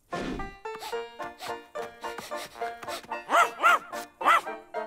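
Cartoon dog Rantanplan from Les Dalton barks in a string of bright, yappy woofs with a couple of whimpering yips, close and clear against a quiet background.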